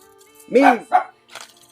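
A dog gives two quick barks close by, the first longer and louder, followed by a brief faint sound after a short pause.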